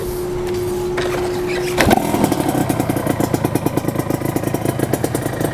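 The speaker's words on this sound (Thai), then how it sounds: "สตาร์ทให้ฟังเสียงกันหน่อยสิ ไม่ได้สตาร์ทนานละนะ" A Serpico motorcycle, left unstarted for a long time, cranks with a whirring starter before firing into a rapid, clattery two-stroke idle that keeps running steadily, recorded up close without voices.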